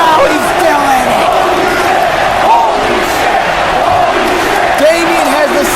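Wrestling crowd at a live ICW pay-per-view event roaring and chanting continuously, a loud, dense wall of voices throughout with a commentator's voice faintly under it.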